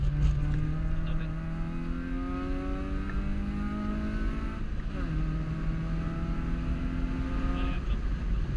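Rally car engine at full throttle at the Cam Rally Festival 2017, revving hard with rising and falling pitch through repeated gear changes, loud and close with a brief break near the middle.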